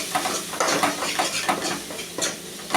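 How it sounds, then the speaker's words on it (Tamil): A spoon stirs and scrapes through spices in a pan for green pea sundal, repeated rhythmic strokes over a soft sizzle, close up. "போட்டு நல்லா மிக்ஸ் பண்ணி விட்டுக்கலாம்."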